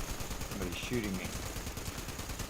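Rapid automatic gunfire in the video game Fallout 76, a quick steady rattle of shots with brief game tones layered over it.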